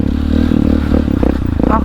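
An enduro motorcycle descends a dirt trail with a close, throbbing engine note mixed with clattering and scraping, and a voice talks over it.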